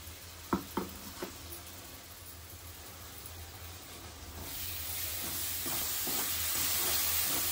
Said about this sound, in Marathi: वाटण थोडं परतायचं आहे मसाल्यामध्ये.